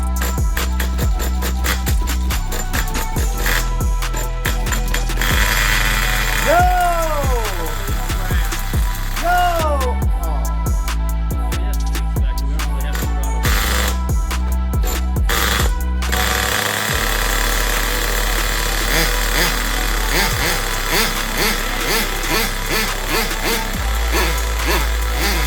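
Redcat Earthquake nitro RC truck engine catching on the bench and running steadily, a loud continuous buzzing drone with revving pitch sweeps, close and alone with no talk.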